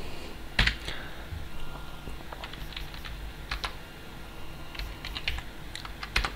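Typing on a computer keyboard, scattered light key clicks and a few sharper taps spread irregularly across several seconds, quiet and close, with no talk.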